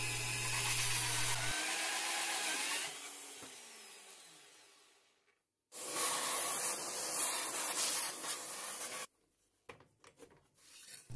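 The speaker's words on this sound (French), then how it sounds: "Le trou du ventilateur est percé à la scie cloche sur perceuse à colonne." Close, loud grinding rasp of a hole saw on a drill press cutting a fan hole, steady for a few seconds, winding down, then cutting again before stopping.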